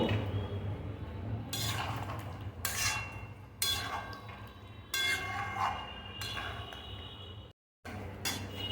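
A spoon scrapes and clinks against a pan while fresh cream is mixed into chicken, in repeated bursts of metallic stirring with short pauses and a brief silent gap near the end.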